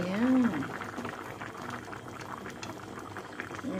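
Squash simmering in coconut milk bubbles in a cooking pot, a soft steady burble of boiling close by, with a brief voice-like tone at the start.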